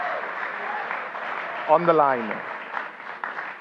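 Steady applause from the audience at the 2019 Nigerian presidential debate as the candidates step forward, a continuous moderate wash of clapping with a voice speaking briefly over it.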